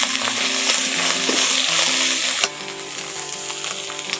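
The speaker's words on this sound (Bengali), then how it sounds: "একসঙ্গে ভালো করে একটু ভেজে নিচ্ছি।" Cauliflower frying in a pan with turmeric, cumin and Kashmiri red chilli powder gives a loud, steady sizzle that drops a little partway through as the pieces are stirred.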